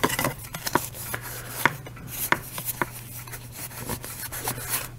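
Someone cleans the solder holes on a game controller circuit board, making close, irregular scraping and tapping strokes with short gaps between them.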